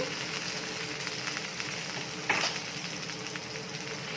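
Sliced onion, chopped mint and curry leaves fry in a hot pan with a continuous loud sizzle, and a single scraping stir cuts through midway.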